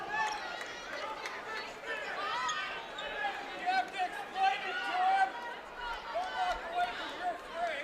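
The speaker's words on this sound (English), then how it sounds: "And now the crowd going crazy." Excited crowd at a high school boys basketball game, Kimball versus Bridgeport, roaring steadily after a technical foul, a dense wash of cheering and shouting that swells and ebbs under a commentator's voice.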